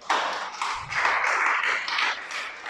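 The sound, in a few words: applause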